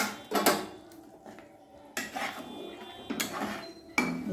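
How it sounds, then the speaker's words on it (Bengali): Fish curry of hilsha with salt and turmeric stirred in a pot, heard as a few scattered metal-on-pot clinks and scrapes of a spoon, close and moderately loud, with quiet gaps between bursts. "একটু নাড়িয়ে দিয়ে"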